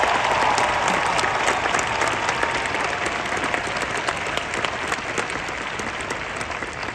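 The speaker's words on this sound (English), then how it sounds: "applause." Steady, dense applause from a large crowd at a 2025 university graduation ceremony, sustained at an even level throughout without talk.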